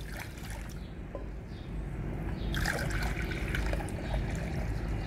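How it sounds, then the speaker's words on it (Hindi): Water is poured into a bathroom P-trap drain fitting, a close, continuous splashing trickle that grows fuller partway through, with no talk. "मैं इसमें पानी डालता हूं"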